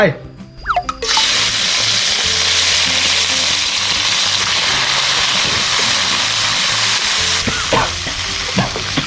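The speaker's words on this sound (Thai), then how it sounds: "เอาน้ำมันร้อนละเอาใส่พริกหนึ่งร้อยเม็ดลงไป" Hot oil poured over a hundred chili peppers for a crispy pork and kale dish, a loud sustained sizzle that bursts in suddenly and holds steady, with someone talking over it.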